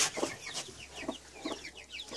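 A newly hatched chick gives high, chirpy peeps in quick succession with short clucking sounds underneath, close by and fairly soft.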